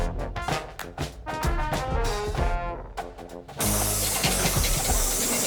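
A paint sprayer coats a red brick house. It cuts in partway through as a loud, steady, close hiss after a stretch of rhythmic, tonal sounds.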